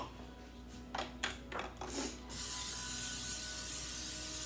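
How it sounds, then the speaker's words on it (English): A few soft clicks and rattles, then a steady hissing spray of cooking oil that continues evenly to the end. "Let's spray the pan."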